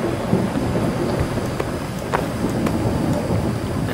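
A thunderstorm in the Gone Home video game brings steady, loud rain with a low rolling rumble of thunder underneath and occasional sharper crackles.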